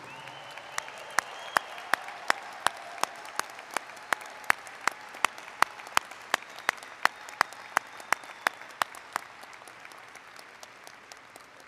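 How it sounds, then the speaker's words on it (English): Audience applause at a Clemson master's graduation ceremony honoring new advanced degree recipients: a fairly sparse, hall-wide patter of clapping with a few distinct, sharper claps standing out, continuing steadily throughout. "How about another round of applause for our newest advanced degree recipients?"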